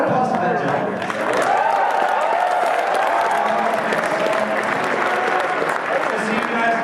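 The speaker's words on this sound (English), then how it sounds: "round of applause for that gentleman." A convention crowd at a brony gathering claps steadily in an indoor hall, continuous applause with a sustained tone and some voices mixed in.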